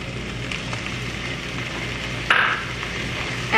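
A spoon stirs ivy gourd (kundru) fry with masala, salt and chopped coriander in a pan, giving soft, continuous scraping and a low sizzle, with one brief sharper scrape partway through.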